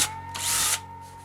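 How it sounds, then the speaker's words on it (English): A power drill with a step cutter bit bores through plastic, a short rising whine that swells into a loud, bright cutting burst before easing off, heard close and alone. "So all I need to do now is drill 2 holes."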